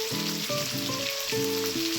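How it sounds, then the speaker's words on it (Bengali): Julienned carrots sizzle in a hot frying pan, a loud continuous crackling hiss close by with a few brief tonal clinks over it. "গাজরটা দিয়ে দিচ্ছি।"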